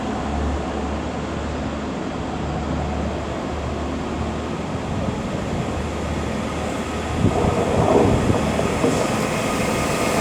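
A Class 331 Northern electric train at Liverpool Lime Street station gives a steady rumble of running wheels and traction hum, with a brief swell of rail noise near the end.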